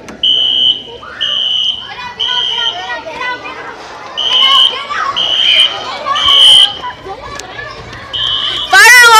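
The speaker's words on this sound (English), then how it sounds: "Fire alarm drill, or just fire alarm." A fire alarm sounds in repeated shrill electronic beeps with short gaps, loud and near, while children and other people talk and shout in between.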